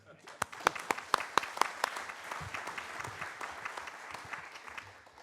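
Audience applause at an economic development prosperity summit, starting with sharp individual claps that build into a steady, dense round of clapping from a crowd in a hall.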